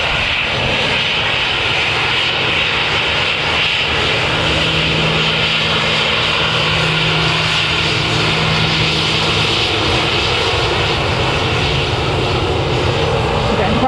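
Aircraft engines roar loudly and continuously at Manchester Airport as an airliner sits near the runway, a broad sustained drone with a steady low hum underneath it.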